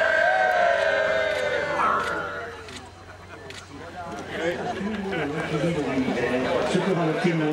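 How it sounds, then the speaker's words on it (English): A group of people cheers for the Herschel and Planck space telescope launch and separation. A voice speaks first, then a burst of mixed shouts, whoops and chatter rises and carries on to the end. "All right, guys, a cheer for Planck and Herschel."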